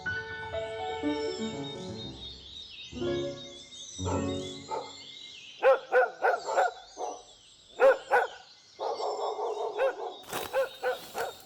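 Stray dogs near a human settlement in Sikkim bark in repeated sharp volleys, some clustered in quick runs and some spaced apart, fairly close and clear against a quiet background.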